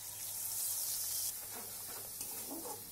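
Spice paste of ground cumin, coriander, chili, salt and turmeric mixed with water sizzles in a hot pan, a steady close crackling hiss that swells early and then settles into softer bubbling and spattering.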